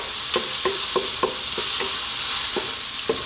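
Garlic frying in a pan for Ethiopian gomen pasta gives a steady close sizzle, punctuated by about eight rhythmic taps and scrapes of a utensil stirring against the pan, with no voices.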